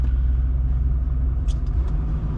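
A cattle truck loaded with cows pulls away from a livestock auction, a steady low engine rumble close by with a few brief higher clanks partway through, no talk.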